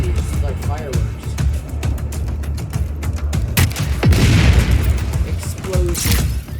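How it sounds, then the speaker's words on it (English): Explosions and gunfire in the video game Just Cause 4, with loud booms and bursts of shooting among exploding barrels, overlapping with a voice talking throughout. "Explosion. Ah! Who's shooting"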